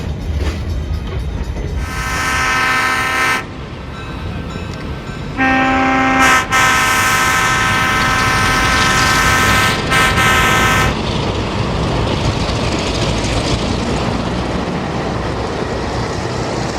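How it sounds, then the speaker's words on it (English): A Santa Fe passenger train, number 60, blows its horn while passing Ventura Avenue heading east out of Fresno: two long chord blasts, a brief toot, then a longer blast, loud and close over the rumble of the train. "Number 60 crosses Ventura Avenue heading east after making its station stop at Fresno"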